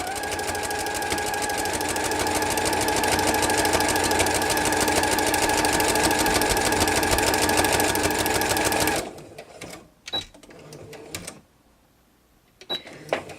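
A sewing machine runs steadily for about nine seconds, stitching a straight line through fabric with red bobbin thread beneath and white thread on top, then stops, leaving a few small clicks and handling noises in near quiet.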